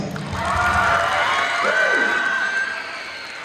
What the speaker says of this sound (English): give your hands a big round of applause